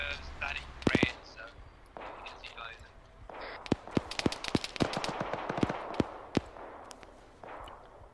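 A squad lays down suppressing fire across open ground in a military shooter, bursts of sharp gunshots crackling irregularly, some close and loud, others distant, with someone talking over much of it.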